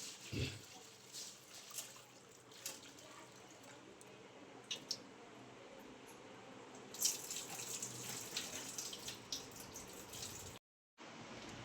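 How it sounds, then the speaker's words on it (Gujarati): Sago pearls, 500 grams of sabudana, washed by hand in a bowl of water, with steady sloshing, squishing and dripping close by, small splashes throughout and a brief break near the end. "એક કટોરમાં નાખી આ રીતે ધોઈ નાખવાના 2-3 પાણી"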